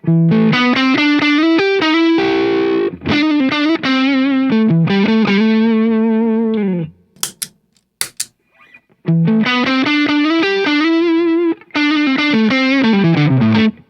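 Electric guitar on the neck pickup runs through a new Nobels ODR-1 overdrive pedal powered at 18 volts, loud sustained distorted chords and phrases, breaking for a short gap of scratchy muted strums before resuming.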